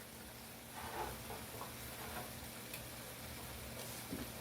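Asparagus and rice gently sizzling in a pan, a soft steady frying hiss with faint stirring clicks, low and continuous throughout.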